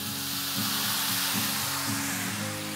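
Rice noodles sautéing with mushrooms, green onion and sauce in a hot wok, a loud continuous sizzle with a rhythmic scraping pulse from stirring, steady throughout with no talking.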